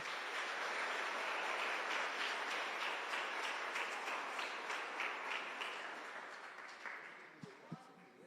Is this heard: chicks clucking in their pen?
no